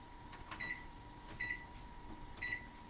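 A microwave oven heating slightly frozen bread hums steadily at low level, with faint regular clicks or ticks roughly every second over the constant drone.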